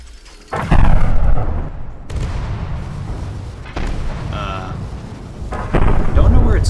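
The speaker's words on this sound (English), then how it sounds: "These could also just be the scariest cannons I will ever see." Heavy cannon blasts from the naval combat game From the Depths, several deep booming shots in a row, loud and close, with low rumbling tails between them.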